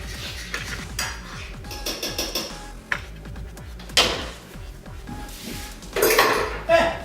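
Metal utensil scraping and clinking against a pan while omelet eggs and oil are stirred, with irregular taps and scrapes close up and a few louder knocks.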